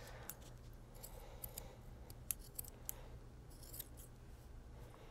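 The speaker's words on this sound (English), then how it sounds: "So you want to just keep trimming little bits and getting that shape down." Scissors snipping repeatedly at a yarn pom-pom to shape it, quick light clicks in irregular bursts, close and quiet, with no talking.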